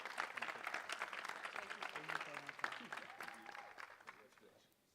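A crowd applauds at a college closing ceremony, UWC Robert Bosch College 2022, with dense, steady clapping that gradually fades out toward the end while voices carry over it.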